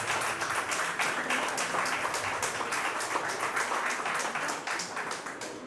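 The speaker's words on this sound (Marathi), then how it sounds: "त्याला समकक्ष टाळ्या तरी आपण मागू शकलो पाहिजे" Audience applause at an award ceremony for the International Day of the World's Indigenous People in Nagpur, a loud, dense crowd clapping with rapid overlapping claps that carries on steadily and fades slightly toward the end.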